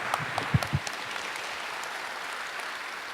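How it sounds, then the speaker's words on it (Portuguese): Church audience applauding at a Catholic preaching event, a faint, distant wash of clapping with a few louder claps near the start, soft and steady without speech over it. "Pode aplaudir, pode aplaudir."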